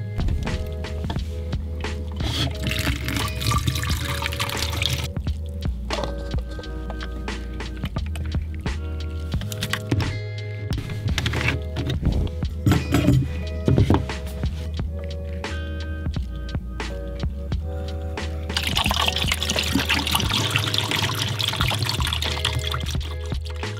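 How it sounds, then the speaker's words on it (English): Water poured into a film developing tank for rinsing: several bursts of pouring, trickling and sloshing up close, interrupted by brief pauses and handling noises. "just rinse the tank with water"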